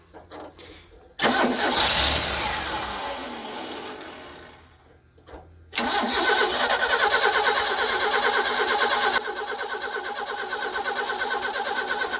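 A 1989 Ford F150 engine starts for the first time in nine years: the starter cranks, the engine catches and roars loudly, fades, then is cranked again and settles into a steady, loud running idle.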